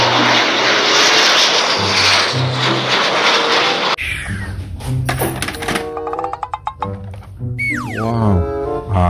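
A loud, steady jet airplane engine roar fills the first few seconds, close and continuous, then gives way to bright, chirpy toy-like sounds and music.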